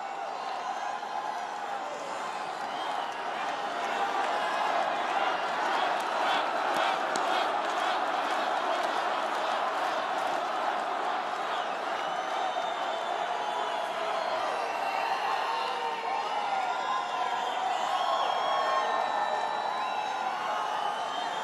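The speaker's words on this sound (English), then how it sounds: "What a crowd." A large crowd at a Phoenix, Arizona political rally cheers, whoops and claps in a loud, sustained roar that swells and holds for the whole stretch, with shouting voices mixed in.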